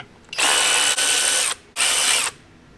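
Ratchet loosening the upper intake bolts on a Jeep Wrangler's 3.6 Pentastar engine, heard as two loud, close bursts of rapid clicking, the first about a second long with a brief break, then a shorter second burst after a pause.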